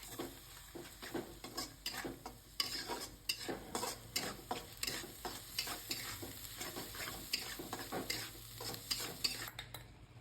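Ground masala paste sautéing in a pot for a mutton gravy, with repeated spoon stirring and scraping against the pan over a low continuous sizzle, fairly quiet and close.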